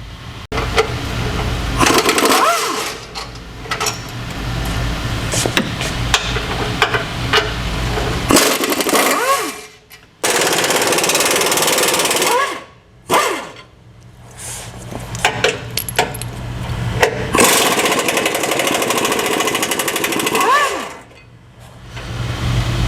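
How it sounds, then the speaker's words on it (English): Factory intercooler bolts, 13mm on top and 15mm on the bottom, being removed, likely with a power impact tool: loud, close bursts of buzzing, rattling drive separated by brief pauses and metallic clinks, with no speech. "remove the factory intercooler. So you'll have a 13 mil on the top, 13 mil on the top, and 15 mil on the bottom"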